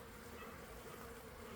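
Honeybees buzzing at an open hive during a hive check, a dense steady hum that stays even and continuous throughout, fairly faint and with no voices.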